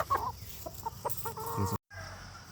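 Sweater gamefowl pullets clucking close by in short, irregular bursts, several soft clucks in quick succession before a brief cut and a low background continuing.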